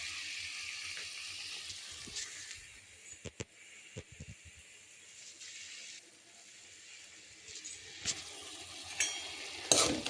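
Ridge gourd stir-fry being stirred in a pan with a sprinkle of peanut powder, soft sizzling under a few scattered scrapes and clinks of the spoon, close and steady, with no speech.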